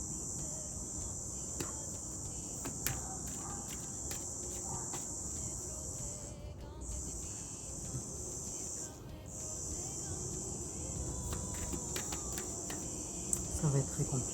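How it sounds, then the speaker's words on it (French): A cicada drones continuously in the background with steady, high-pitched buzzing, briefly cutting out twice, with faint scattered clicks and outdoor noise. "j'entends la cigale"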